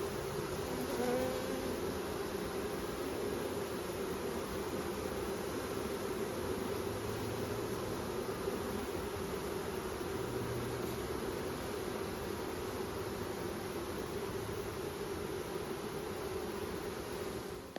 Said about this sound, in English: All right, we got us a swarm here.